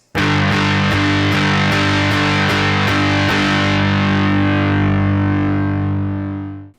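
A distorted electric guitar power chord is strummed in a quick repeated rhythm for about three seconds, then left to ring and slowly fade, loud and close with no talking.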